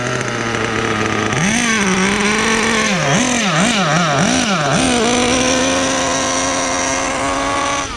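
A Kyosho USA-1 nitro RC monster truck's small engine screams at top speed, its loud continuous whine climbing, wavering through several rapid throttle swings, then holding a steady high pitch.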